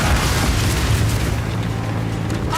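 Incendiary bolts bursting in the Path of Exile 2 video game, a dense, loud, rumbling roar of fiery explosions sustained throughout with no talking.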